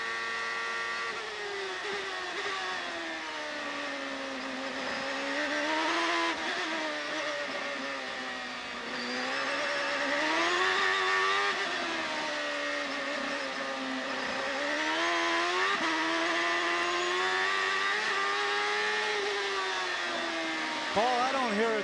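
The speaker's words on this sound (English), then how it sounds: "they said the engine was running rough" IndyCar race car engine running rough at Mid-Ohio during a 1996 CART race, a continuous strained, wavering whine heard from onboard, loud and steady throughout, with a commentator talking over it.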